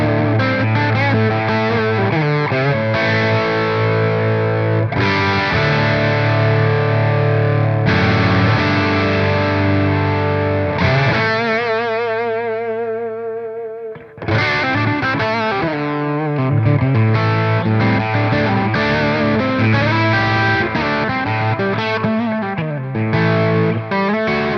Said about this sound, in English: Now I'll go to just the bridge position turned up, and you'll hear how rock out this amp can get